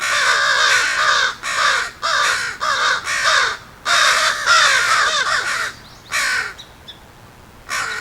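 Several crows caw harshly in a forest while mobbing a fox, giving repeated loud calls in bursts of two to four, close and alone with no talking.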